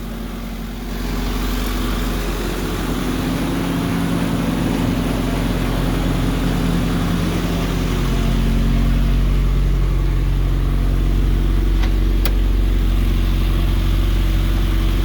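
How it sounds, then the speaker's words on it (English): A 1973 Opel GT's engine idling nearby, a steady low rumble with a deep bass throb that swells slightly louder toward the end, with no talking. "1973 Opel GT. Really don't see these running around anymore, but this one's still running."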